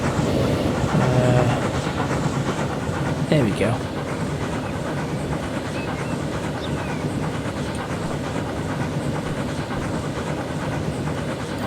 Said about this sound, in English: Is there a train coming? There is.